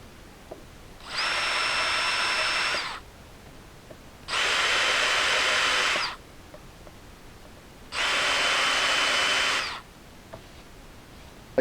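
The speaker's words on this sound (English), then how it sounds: "we'll drill a hole into these so that these taper screws basically fit" A power drill whirs in three separate bursts of about two seconds each, drilling holes for taper screws, with brief pauses between, close and fairly loud.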